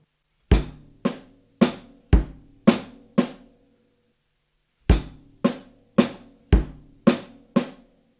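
A drum kit plays both three-note groups of a groove in 7 together, six punchy hits in an even rhythm, then the same six again after a brief pause, close and unaccompanied by speech.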